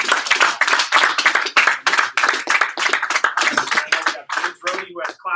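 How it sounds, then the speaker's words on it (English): Office meeting applause: a small group clapping in a rapid, uneven rhythm for about five seconds, close and fairly loud, with no speech over it. "So let's give Ian a big round of applause"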